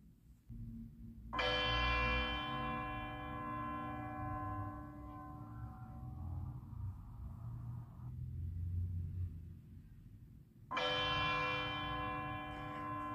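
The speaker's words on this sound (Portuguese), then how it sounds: "Vamos escutar um sino que tine?" A single bell strikes with a long, bright ringing decay over a low rumble, then a second strike rings out near the end.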